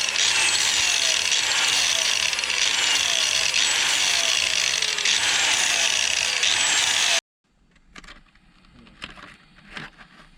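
Steady, loud abrasive scraping strokes of hand sanding paint off a boat hull repeat for several seconds, then stop abruptly, followed by a few faint knocks and handling sounds.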